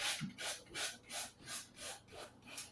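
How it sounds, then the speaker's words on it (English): Rhythmic back-and-forth rasping of well-worn 220-grit sandpaper on a small wooden pumpkin, about six even strokes, close and steady. "All I'm using is a 220 sandpaper, but it's been used a lot."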